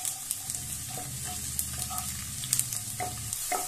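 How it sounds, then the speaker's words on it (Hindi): Garlic sizzles in hot oil in a pan for a Rajasthani cholai greens sabji, a soft steady frying crackle with light stirring scrapes and small pops, quiet and close with no talk. "अब देखिए, ये हमारा तेल गर्म हो रहा, उसके अंदर हमने जो गार्लिक डाला है वो इसके अंदर सिक रहा है।"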